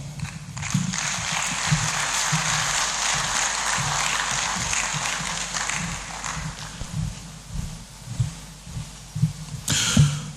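Audience applause at a media convention, a sustained round of clapping from a large crowd that thins out toward the end and gives way to scattered claps.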